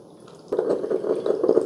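A Ninja CM401 specialty coffee maker starts back up mid-brew after a pause, shifting from near quiet to a close, steady bubbling and dripping gurgle as it heats water again.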